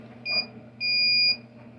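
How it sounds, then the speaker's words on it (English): Two electronic beeps from a circuit breaker finder locating a circuit, a short one and then a longer sustained tone, sounding over a low steady hum. "You hear it beep a number of times, and it'll eventually find the circuit"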